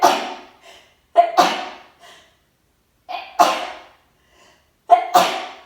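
Four sharp sneezes, each a quick intake followed by a forceful burst, close up in a quiet room with short silent gaps between them.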